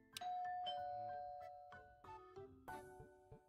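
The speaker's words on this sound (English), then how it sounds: "The doorbell rings." A chiming doorbell in the video game Hush Hush rings out a clear series of bell tones, bright and ringing, each note sustained and overlapping in a quiet room.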